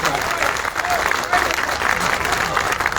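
Crowd at a Teej festival poets' gathering in Sirsaganj claps for a poet, a steady wash of applause with murmuring voices underneath.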